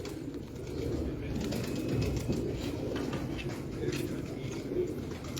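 Breeder's pigeons in a loft give low, continuous cooing that rises and falls slightly over a steady ambient hum, with a few faint wing flutters.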